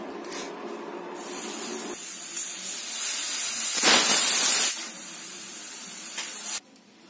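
Pressure cooker with moong dal inside, hissing steam in a steady rush that swells into a louder whistle-like burst near the middle, then settles back before cutting off abruptly.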